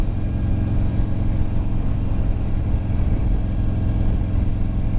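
Steady, loud rumble of a Buell Ulysses motorcycle engine while riding, a constant low drone with wind noise and no pauses, close and continuous throughout.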